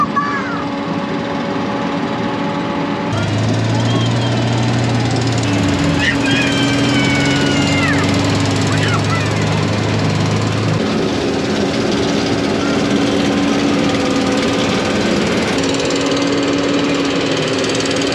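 A combine harvester works a wheat field on a warm, windy day, its low engine drone steady throughout with a deeper rumble swelling mid-clip, while people talk nearby over the machinery.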